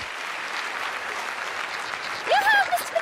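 Cartoon audience clapping for a piano player, a steady patter of many hands, with a character's voice cutting in near the end over the applause.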